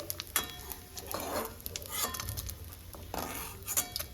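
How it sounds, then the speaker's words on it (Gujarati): Gentle sizzling of acacia gum resin frying in ghee, with soft stirring scrapes and occasional clinks of a utensil against the pan, quiet and close. "આ રીતે થોડો થોડો ગુંદર ઉમેરી અને બધો જ ગુંદર આપણે તળી લેશું।"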